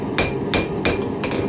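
Ball peen hammer striking steel over the horn of an anvil in a forge, four heavy ringing blows at an even, steady pace, close and loud over a constant background roar, with no talking.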